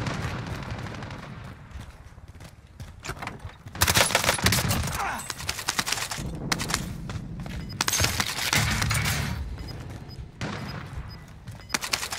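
Video game gunfire from a Far Cry 6 gameplay trailer, loud bursts of rapid shots and booming impacts in clustered volleys, with a few quieter gaps between them.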